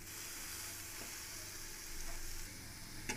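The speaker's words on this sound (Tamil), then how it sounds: "இது நல்லா கொஞ்ச நேரம் வதங்கட்டும்" Onions, carrot and other vegetables for masala dosa filling sauté in a pan with turmeric, giving a steady, fairly quiet sizzle that swells slightly partway through, ending with a soft scrape and no voices.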